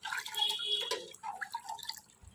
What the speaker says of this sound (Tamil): இப்போ தண்ணியில் போடுவோம்